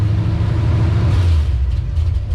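A 1979 Ford F250 4x4 truck engine runs steadily while driving, with a loud, close, continuous low rumble and no pause.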